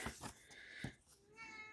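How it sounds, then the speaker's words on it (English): A house cat meows from behind a closed door wanting out of a room, giving a few short, faint calls that are followed by a longer, drawn-out meow. "That's my cat wanting let out the room."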